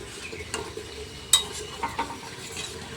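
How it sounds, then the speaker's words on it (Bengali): A hilsa fish curry with taro and potato gets stirred in a pot over a soft simmering sizzle, with a few scraping strokes and one sharper clink of the spoon against the metal. "ভালোভাবে একটু নেড়ে চেড়ে দিচ্ছি।"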